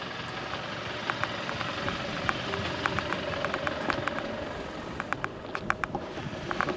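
An off-road vehicle's engine running steadily on an outback track near Newman, with a constant mid-range drone and scattered sharp rattles and knocks from the rough ground, no voices.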